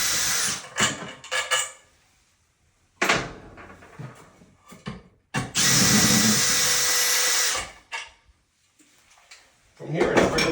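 Power drill backing screws out of a bathroom fan light fixture, several short whirring bursts and one longer steady run up close, separated by pauses, clicks and handling noise, with someone talking.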